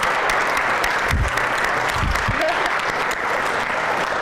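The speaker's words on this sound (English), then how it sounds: "A round of applause for Andrew Carnegie." Audience applause at the SteelCity Codefest event fills the room as a steady wash of clapping, with a few low thumps or bumps midway and no clear speech.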